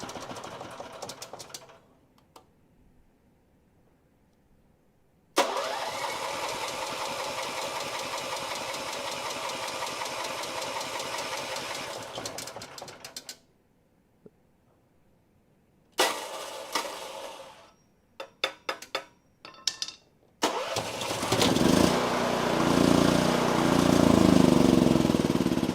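A single-cylinder small engine on a snow blower or generator with a possible vacuum leak starts and runs loud and rough in long bursts, cutting out between runs before revving up again.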